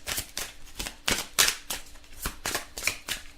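Oracle cards from a life-mission deck are drawn and handled, giving a quick series of crisp papery flicks and slides at an irregular rhythm, close and fairly quiet.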